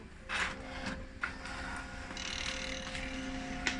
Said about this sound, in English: I'm going to go ahead and put it straight to the A3 UP850 WT printer